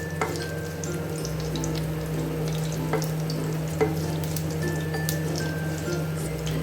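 Cashews frying in oil for a prawn biryani give a steady, close sizzle, with small pops and stirring noises scattered through it and no talking.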